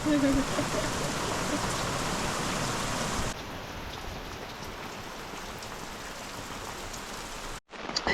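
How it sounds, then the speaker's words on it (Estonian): Heavy rain falls outside a tent as a dense, steady patter that is loud at first and then softens to a lighter drumming, with a brief dropout near the end. "Väljas saab vihma"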